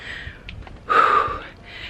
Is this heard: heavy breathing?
yes